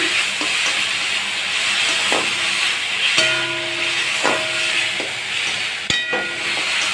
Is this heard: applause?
no